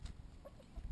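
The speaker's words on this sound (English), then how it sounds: "Chicken fight." Backyard chickens squabble over a single leaf, giving short, close clucks and scuffling sounds in a brief burst with no talking.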